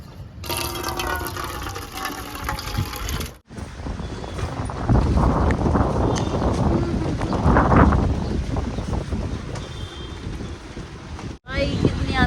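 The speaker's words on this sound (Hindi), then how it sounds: "भाई कितनी आंधी आ रही है यार।" Strong storm wind buffets the microphone in loud, continuous gusts outdoors, with a couple of brief cutoffs and no talking.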